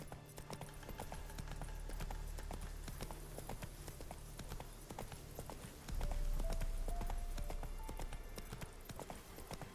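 A horse's hooves clip-clop at a steady rhythm, close and continuous, during a ride in the video game The Witcher 3, with a faint voice now and then.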